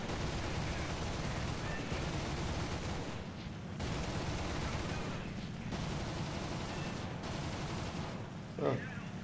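Gunfire and combat noise from the War Thunder World War II air combat game, with the German Luftwaffe side. It is a dense, continuous roar of firing, with brief pauses and a sharp burst near the end.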